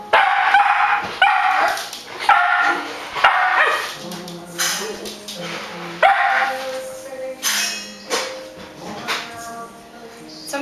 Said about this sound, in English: My mom's gonna feed the dog, so it's gonna be obnoxiously loud in here.